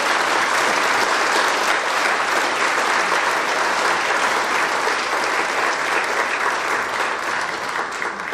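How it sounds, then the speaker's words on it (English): An audience at a high school senior awards night gives dense, continuous applause for the Dollars for Scholars recipients, an even roar of clapping sustained for over eight seconds with little voice. "would you give these senior awardees for Dollars for Scholars a rousing round of applause?"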